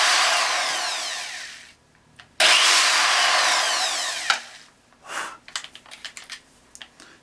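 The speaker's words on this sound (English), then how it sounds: "You're just trying to deburr it." A hand tool deburrs the mouths of brass rifle cases, giving a sustained raspy scraping in close bursts, a pause, then another long scrape followed by short choppy strokes.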